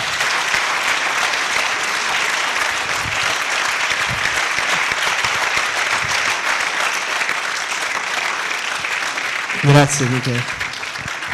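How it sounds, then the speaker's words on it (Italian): Sustained applause from an audience at a university inauguration ceremony in Melito di Porto Salvo, steady and dense throughout, with a brief spoken thanks near the end. "Fate un applauso a Michele."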